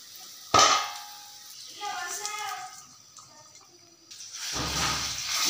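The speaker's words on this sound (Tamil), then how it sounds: "இதை எடுத்து சாம்பாரில் கொட்டிக்கலாம்." Hot tempering is poured into sambar in a kitchen: a sharp metallic clang comes first, then a few quieter clinks, and then a loud, close, sustained sizzling hiss at the end.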